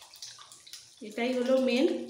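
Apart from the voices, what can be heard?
pouring tamarind water into a cooking pan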